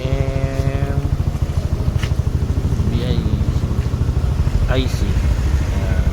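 A motorcycle engine idles with a steady, fast low thrum throughout, loud and close, while someone talks over it and brief tonal chirps cut in.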